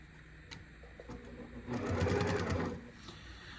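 A sewing machine stitches fabric for a boxed bag made from a placemat. A few slow clicks lead into a steady, close mechanical whir lasting about a second before it stops, and there is no talking.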